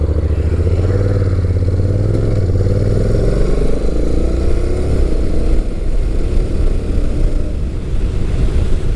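A 2016 Honda NC700X DCT ABS, compared with a 2008 Kawasaki Concours 1400, is ridden on the road. A loud engine drone rises in pitch through acceleration, then turns to a rougher rumble mixed with rushing wind noise.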